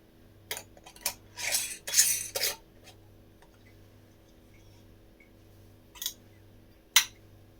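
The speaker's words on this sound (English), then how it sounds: "Just trying to make sure the lids match up to the correct jars." Glass canning jars and metal lids clinking and clattering as lids are matched to jars while pressure canning potatoes, a few close bursts of rattling followed by sparse single clinks over a low steady hum.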